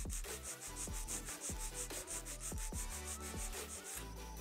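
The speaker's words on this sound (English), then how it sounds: "straight out from the nail groove on the right, holding the finger and the nail securely, file straight out" A nail file scrapes across an acrylic nail in quick, even back-and-forth strokes, a soft steady rasping rhythm heard close up and faint, with no talking.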